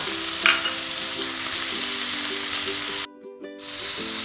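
Garlic flowers and petai beans stir-fry in a hot pan with a steady, close sizzle. A low hum runs under it, and near the end a short gap cuts the sound before the frying resumes.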